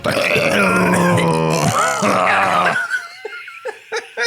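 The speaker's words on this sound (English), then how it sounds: "burping and gagging in delight" Men burp and gag loudly in delight, a long guttural belch with strained retching tones followed by short laughing bursts and giggles.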